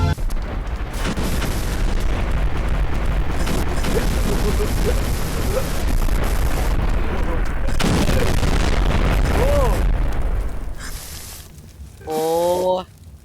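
Explosions from a video game set at Area 51 boom loudly and continuously for about ten seconds, with voices talking over the blasts before a brief sweeping electronic tone near the end.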